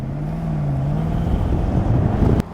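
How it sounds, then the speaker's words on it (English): A Jaguar XK (X150) fitted with Polybush suspension bushes cruises on an ordinary road, producing a steady low engine and tyre hum with a brief click near the end. "Now, let's go and drive the car."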